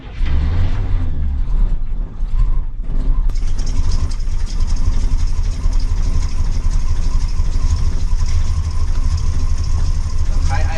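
An '88 Chevy 454 RV engine runs at high idle on a manual choke, a loud steady low rumble with a brief dip early on, close by, with a voice talking faintly at times.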